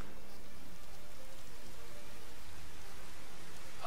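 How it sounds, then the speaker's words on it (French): Steady rain from Final Fantasy XV, heard as a dense, even hiss of falling drops that stays constant from start to finish, with no voices over it. "le bruit de la pluie là, c'est assez réaliste"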